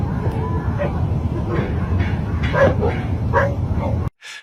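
Dogs bark and yip repeatedly at a campsite in the Appalachian Mountains at night, a series of short calls rising over a steady background hum before cutting off abruptly.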